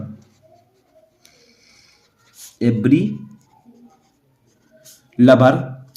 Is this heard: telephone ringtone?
no